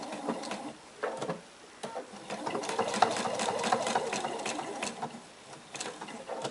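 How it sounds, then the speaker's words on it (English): A sewing machine stitches around the narrow end of a reversible roll-and-flip tote bag in quick bursts of rapid mechanical whirring, pausing briefly between runs, close and clear. "So I'm just going to start sewing at one of my narrow ends."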